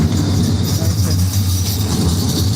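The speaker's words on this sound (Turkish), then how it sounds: "Tramvay geçiyor." A tram rumbles past close by, its low mechanical drone and rail hum steady and loud.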